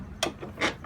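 An Allen wrench turns on a Delta planer, giving three short metallic ratcheting scrapes close by, with no voices.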